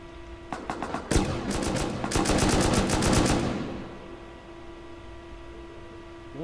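AK rifle fire in the survival game Rust: a few spaced single shots, then sustained rapid automatic bursts for about two seconds, loud and close, fading out over a steady electrical hum.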